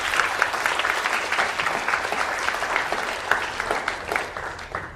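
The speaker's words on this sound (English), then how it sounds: "give them a round of applause" A school humanities symposium audience at Queens College gives a round of applause, dense steady clapping from many hands filling the room for several seconds with no talk.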